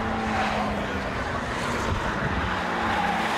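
A Mazda MX5 Mk3 race car at Knockhill brakes hard into the first corner, a loud, continuous engine drone with shifting pitch and track roar held steady, close and unbroken.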